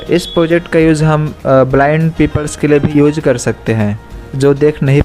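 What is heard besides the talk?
No everyday noise stands out behind the speech.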